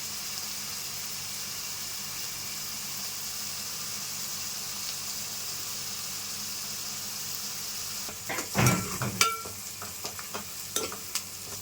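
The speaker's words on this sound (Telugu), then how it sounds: "ఇవి బాగా వేగాలండి ఉల్లిపాయ ముక్కలు." Onion pieces with salt and turmeric fry in a pan, a faint even sizzle running on, then a burst of stirring and scraping clatter near the end, close and without speech.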